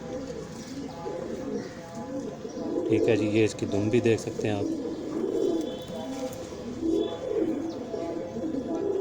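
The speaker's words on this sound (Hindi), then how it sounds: "ये 40 साल पुराने कबूतर हैं हमारे पास।" Prince Kamgar pigeons of a 40-year-old breed coo in low, repeated murmurs close by, mixed with someone talking over them throughout.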